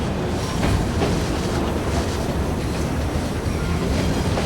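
Steady train ride ambience from Assassin's Creed Syndicate: a loud, continuous rumble of a moving rail carriage with a faint rhythmic clatter and no speech.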